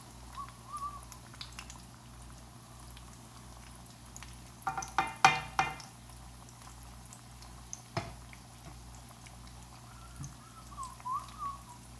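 Leftover Thanksgiving croquettes fry in a pan with a soft, continuous sizzle, punctuated by a cluster of sharper crackles and pops midway and a few scattered spits afterward.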